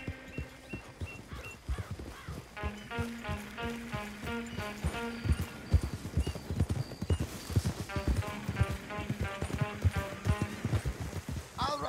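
Horse hooves gallop in a steady rhythmic clip-clop from the video game Red Dead Redemption 2, with a background musical score throughout.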